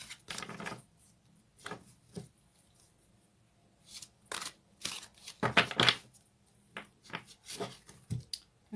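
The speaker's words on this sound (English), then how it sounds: "get a cleaner shuffle" Tarot deck being shuffled by hand, a run of quiet, crisp papery riffles and taps in irregular bursts, close and alone with no talking.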